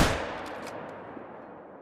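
A single .243 rifle shot with a polymer-tip bullet fired at a chamois on a hunt, one sharp loud crack at the start followed by a long fading echo rolling away across open terrain.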